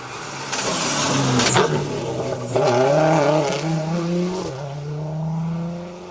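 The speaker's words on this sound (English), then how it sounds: "Car sounds on song." A rally car arrives on Stage 7 of the 2023 Down Rally, its engine loud and close, rising and falling as the driver revs hard and shifts through the gears.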